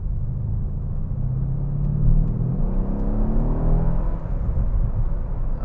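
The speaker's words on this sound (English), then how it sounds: "Now we'll give it a little bit of gas." A 2014 Mercedes-Benz E63 AMG accelerating on a test drive, its engine rumbling steadily and rising in pitch as it pulls, heard close from inside the car with no talking over it.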